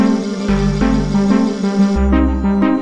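Synth breakdown played on a Deluge groovebox: a sustained Hydrasynth pad with deep bass and rhythmic chopped vocal stabs, steady and loud with re-attacks roughly every third of a second and a shift in the bass partway through.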